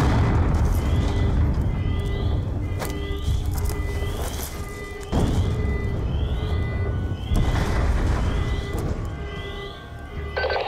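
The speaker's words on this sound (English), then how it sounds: "We're monitoring multiple explosions across the facility." Multiple explosions across a facility in the video game Call of Duty: Black Ops II, heavy booming blasts recurring every few seconds over a dense rumbling battle bed, with no talk.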